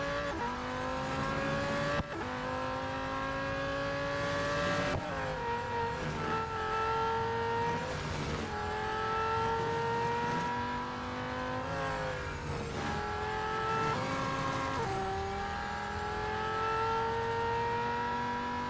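A McLaren Solus GT engine in Real Racing 3 revs loud and close, climbing through gears with repeated rising pitch sweeps and shift drops, a near-continuous racing drone over the whole stretch.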